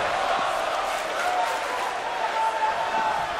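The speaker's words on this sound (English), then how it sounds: "We hear the crowd here in Tropical Park Stadium here in Miami, Florida, loving every moment of Bruce Bryant's brilliance" Stadium crowd at an outdoor wrestling show in Tropical Park Stadium, Miami, Florida, roaring and cheering in a steady, loud, continuous wash with no clear individual voices.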